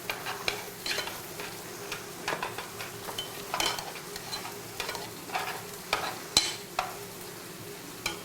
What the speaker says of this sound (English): Go ahead and toss your basil in. Let it saute for just a second